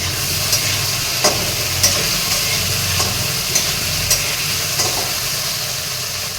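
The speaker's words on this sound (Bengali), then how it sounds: "এগুলো ভাজবো একটু।" Ingredients sizzle steadily in hot oil in a pan while cooking a cucumber fish curry, with a continuous hiss broken by a few sharp clinks and scrapes of stirring, close and fairly loud.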